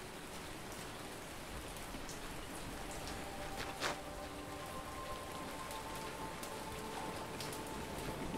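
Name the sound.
rain in a video game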